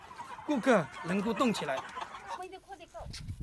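Chickens on a farm cluck and squawk in several close, loud bursts, with a human voice briefly mixed in near the end.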